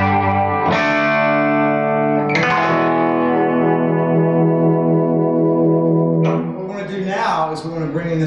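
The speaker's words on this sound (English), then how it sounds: "you're already hearing the benefit of the Telefunken style pre in front of the divided by 13s" Electric guitar runs through a Telefunken-style preamp into the amp, ringing out with three long, loud strummed chords that sustain and decay with chorus and echo, then a brief busier flourish at the end.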